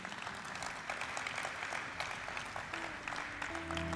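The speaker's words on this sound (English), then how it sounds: "Can we have a huge round of applause for them?" Audience applause at a corporate celebration marking thirty years of Mastek Limited's listing on the NSE, a steady wash of many hands clapping, with a faint voice or tone emerging toward the end.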